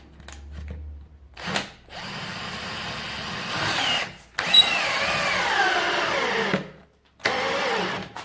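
A Parkside PSBSA 20-LI B2 two-speed cordless impact drill drives a screw into wood in several bursts of loud whirring, with brief pauses between runs and pitch shifts as it works.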